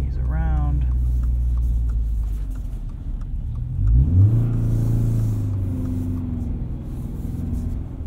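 Subaru BRZ engine revving as its wheels spin in wet snow and slush, a rising and falling mid-pitched drone with a sharp upward sweep partway through, under talk from people inside the car.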